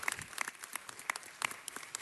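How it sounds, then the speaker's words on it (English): Sparse applause at a city council meeting welcoming a new commissioner, a handful of distinct hand claps scattered irregularly over a quiet room. "So if we could give Sherry a round of applause."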